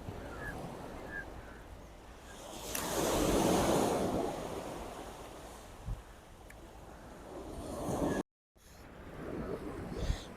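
Waves wash onto the seashore at Mumbai in a steady broadband roar that swells louder for a few seconds, with wind buffeting the microphone and no talking.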